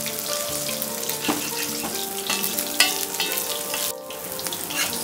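Bottle gourd omelette fries in a pan with a loud, continuous close sizzle and crackle, broken by a few soft clinks and scrapes as it is turned.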